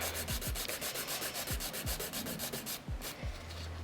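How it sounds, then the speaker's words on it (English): Nail file sands an acrylic nail with fast, steady back-and-forth strokes, a close, continuous scratchy rasp with a regular rhythm and no talking. "So you're just gonna file the nail completely."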